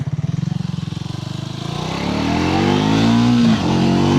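A Triumph Tracker 400 motorcycle idles with a pulsing low thrum, then its engine note climbs steadily as it accelerates, loud and close, the rising pitch sweeping upward before a brief dip near the end.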